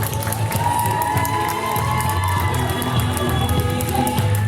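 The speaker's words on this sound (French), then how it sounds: "Voici Maëva Flamme sous vos applaudissements." At a Miss pageant in Le Touquet, a large audience cheers, whoops and applauds continuously as a contestant is introduced, a dense, loud crowd roar filling the room throughout.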